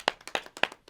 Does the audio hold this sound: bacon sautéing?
no